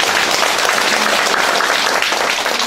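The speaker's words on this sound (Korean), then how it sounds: "저희 답변해 주신 우리 청장님께 큰 박수 부탁드립니다" Sustained audience applause at a 2016 residents' town-hall meeting with the Seo-gu district head, a thick, even wash of many people clapping, loud and unbroken throughout.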